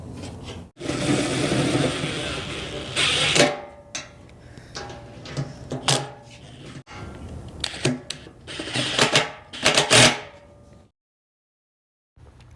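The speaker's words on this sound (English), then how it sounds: "we'll snug them down with a gun, and then we'll tighten them to about the tightness of a wrist" An air impact gun snugs down oil pan bolts on a rebuilt GMC 302 inline six engine, firing in several loud, close rattling bursts of a second or two with short pauses between, then going silent.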